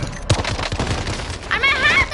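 Gunshots in the video game Call of Duty: a few sharp, punchy shots near the start, followed by a wavering whistling tone toward the end, with no talk.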